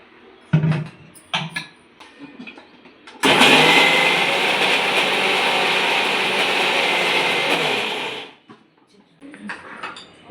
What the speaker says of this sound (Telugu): ఇదిగోండి చట్నీ అయిపోయింది, మిక్సీ పట్టేసుకున్నాను.